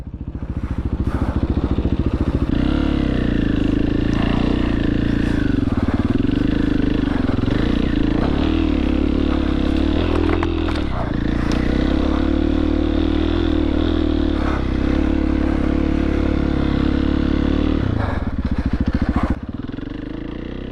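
A new dirt bike rides a motocross track at Promised Land MX, its engine droning loudly and continuously up close with shifting revs and some clatter, a brief drop near the end.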